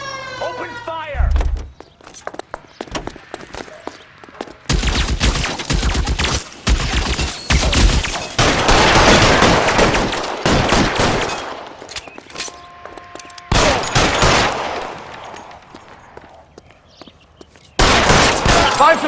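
Bursts of gunfire in L.A. Noire, loud volleys and rapid machine-gun-like strings coming in several waves with short gaps, with voices shouting amid the shooting.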